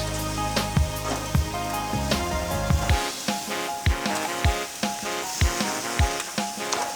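Honey ginger pork chops sizzling in a pan, a steady hiss running beneath background music with recurring beats.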